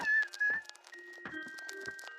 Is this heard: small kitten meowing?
yes